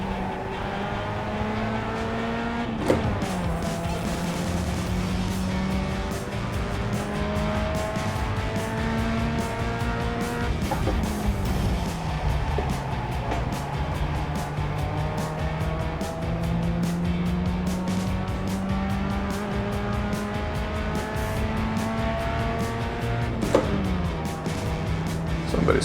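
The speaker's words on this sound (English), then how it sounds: "There's a faster car approaching." Race car engines roar continuously in the iRacing sim racing game among a pack of Mustangs, pitch rising and dropping through repeated gear shifts, loud and close for the whole stretch.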